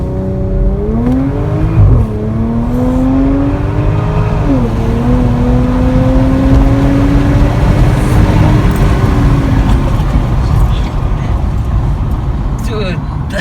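Audi S4 fitted with a Chipwerke piggyback tune launching hard under launch control, its engine note climbing steeply through gear changes with rising pitch, loud from inside the cabin as occupants talk and exclaim.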